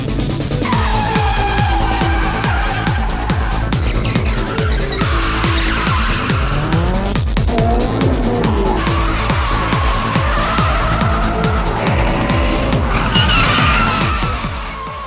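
Street-racing drift cars in a warehouse district at Nanko port, Osaka, shriek through repeated long tire squeals over revving engines, loud and close, rising and falling as they slide past.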